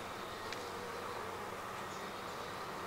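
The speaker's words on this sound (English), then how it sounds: "Look at all these yellow jackets down here. Look at the bees trying to eat some spilled sugar syrup." Bees and yellow jackets buzzing around a beehive and spilled sugar syrup, a steady dense insect hum close by with occasional louder passes of single wings, no voices.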